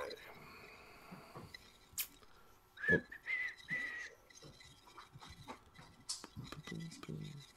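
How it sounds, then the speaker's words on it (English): A person whistles a casual tune in a few bright, short phrases, close to the mic, among soft handling noises while mixing a DIY e-liquid. "We have a whistle."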